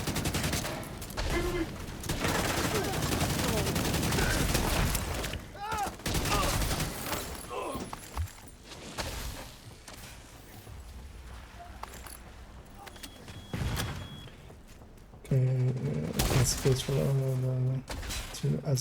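Video game gunfire crackles in loud bursts, dense early on and returning near the end, mixed with game mechanisms and spoken commentary over it.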